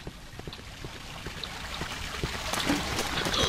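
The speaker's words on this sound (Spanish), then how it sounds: "Eso es agua." Running water in the horror game Cry of Fear, heard as a steady trickling, splashing stream that grows slightly louder toward the end, with no talking over it.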